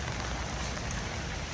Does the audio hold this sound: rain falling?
yes